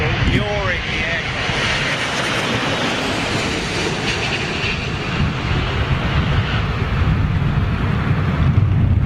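A large jet airliner roars on approach in a crosswind, a broad loud engine rush that holds steady and swells slightly near the end, with someone talking over it.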